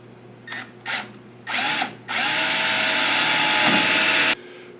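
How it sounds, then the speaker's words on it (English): Close and loud, a power drill with an angle attachment runs a number 40 bit for pilot holes in a Piper Supercub baggage compartment panel: three short whirring bursts, then one long continuous run that stops abruptly. "I've got the tight space drill, angle drill bit attachment here for these, and a number 40 drill for a pilot hole."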